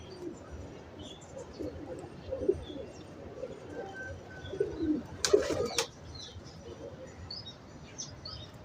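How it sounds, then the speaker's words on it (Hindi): Soft, low cooing from a high-flyer pigeon on a Lahore rooftop repeats at a close distance over quiet outdoor ambience, with a brief burst of flapping or rustling midway. "मैर साहब के घर का कबूतर है ये जी।"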